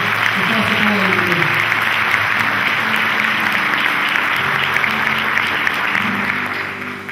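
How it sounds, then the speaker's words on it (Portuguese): A church congregation at a family worship service applauds, a steady wash of many hands clapping with a few voices and cheers mixed in early on, fading slightly at the end. "Você pode aplaudir o Senhor?"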